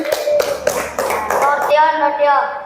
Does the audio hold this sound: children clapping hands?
yes